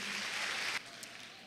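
Church congregation applause: a short, quiet burst of clapping that cuts off abruptly after under a second, leaving a faint room hush.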